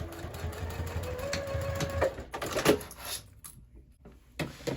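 A sewing machine runs slowly through a thick crossbody bag seam, a steady mechanical whir with a rising whine, pausing and restarting amid small clicks and handling noises, fairly faint and close.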